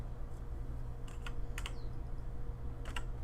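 Several separate key presses on a Logitech G910 mechanical gaming keyboard, crisp clicks in small clusters against a quiet room hum, no talking.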